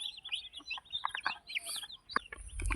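Chickens cluck close by in a quick series of short, fairly quiet clucks and calls.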